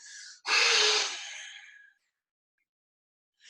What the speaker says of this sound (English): Exhaling fully, pushing all the breath out.